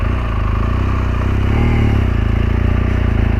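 A 2014 BMW R1200GS Adventure motorcycle pulls away, its boxer engine a steady, close, loud drone with a low rumbling throb that swells slightly as it gets moving, with no talking.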